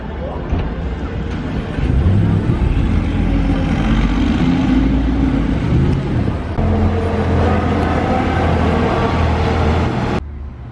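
Deep, loud engine rumble from a Mercedes G-Class Brabus on the street during the Monaco F1 Grand Prix, holding a steady throaty drone for about ten seconds before cutting off abruptly, with voices underneath.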